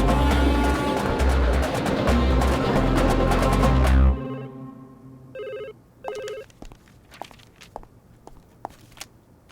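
A Reliance mobile phone rings twice in short electronic bursts. The rings are clear and close, following a loud stretch of music, with scattered footsteps and small knocks in the background.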